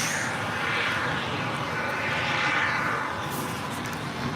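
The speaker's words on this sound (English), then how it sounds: "Sun Country Airlines Flight 427 coming in from Minneapolis. It's a 737-800." A Sun Country Airlines Boeing 737-800 arriving at LAX from Minneapolis produces a steady, broad jet roar that holds at an even level throughout, with no talk over it.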